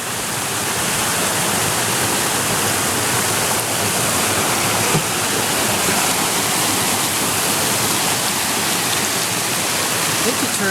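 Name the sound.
river flowing near a waterfall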